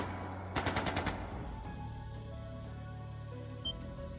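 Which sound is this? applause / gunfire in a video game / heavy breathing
gunfire in a video game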